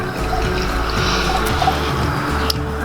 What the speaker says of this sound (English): I'll pour this here